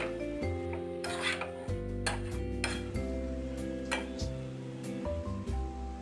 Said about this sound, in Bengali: আবার সব কিছু ভালো মতো নাড়াই।